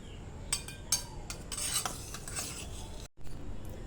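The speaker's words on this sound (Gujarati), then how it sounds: "મેં આનાથી છાશ અને ચણાના લોટને મિક્સ કરી દીધો છે" A spoon stirs buttermilk and gram flour together in a bowl, making soft scraping and clinking strokes that come close and fairly quiet, with a brief gap near the end.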